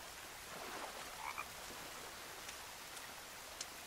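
A frog in the survival game The Forest gives a few short, chirpy croaks, brief and moderately faint, over a steady rain-like ambient hiss, with no voices.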